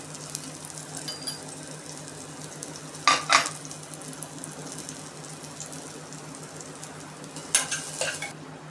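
Onion frying in a pan with a pinch of turmeric while making vegetable dalia for a toddler, a low steady sizzle broken by two short bursts of utensil scraping and clinks.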